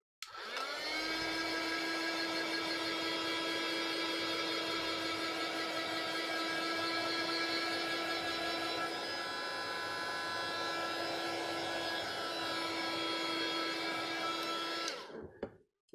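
An electric dryer drying water-based ink on an art journal page, a steady loud whirring hum that runs unbroken for about fifteen seconds before switching off.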